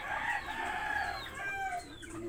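A rooster crows in a long, drawn-out call that rises and falls, loud and close, with no talking.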